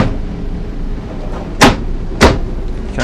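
A drawer in the kitchen of a 2019 Airstream Classic 33FB travel trailer is slid open, giving two short, sharp knocks about half a second apart over a steady low background hum.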